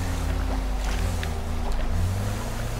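A coast guard boat idles on the water in GTA 5, its engine giving a steady, continuous low hum with faint splashes and higher scraps of sound over it.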